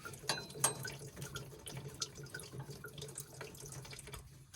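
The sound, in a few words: diesel fuel draining out of a fuel filter head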